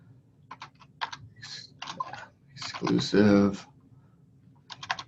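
Typing on a computer keyboard while filling out real estate listing paperwork, with bursts of close key clicks separated by short pauses, and a person briefly speaking midway.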